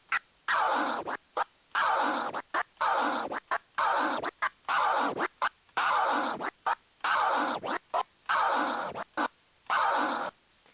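DJ open fader scratches on a turntable record, a rhythmic run of short, sharp scratching bursts with crisp cuts between them, close and loud, repeating steadily without any voice.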